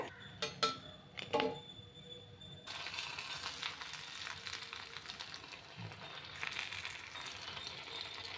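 Katori chaat cups deep-frying in hot oil, a steady bubbling sizzle that starts after a few clinks of a metal utensil against a pan and goes on at close range, with no voices.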